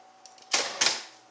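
The carriage return on an old manual typewriter is pushed by its small metal lever, giving two sharp close clacks with a brief ratcheting rattle, preceded by faint light ticks and no talking.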